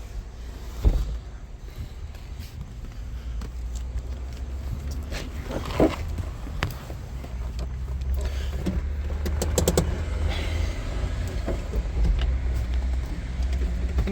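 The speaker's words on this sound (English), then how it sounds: "You can hear the fuel pump kick on." A 1960 MGA Coupe's fuel pump kicks on, a quick cluster of faint ticks over a steady low background rumble, with a sharper knock early on.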